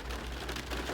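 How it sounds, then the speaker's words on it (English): Rain falling outside, a steady dense patter of drops on surfaces, continuous and fairly faint with no talk over it. "Listen to the rain."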